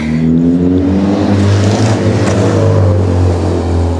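Neighbourhood race cars rev nearby at dusk, a loud, sustained engine drone with rising and falling pitch filling the whole moment.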